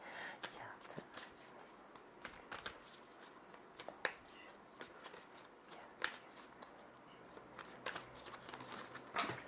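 Tarot cards shuffled and drawn by hand at close range, a steady run of crisp riffling flicks and slaps with sharper snaps throughout, no voices.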